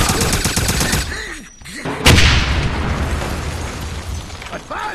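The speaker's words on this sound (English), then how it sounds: "Grenade!" A grenade detonates in the Wolfenstein video game with a sharp, loud boom and a rumbling tail, following a burst of rapid gunfire and shouted voices, then more distant shots.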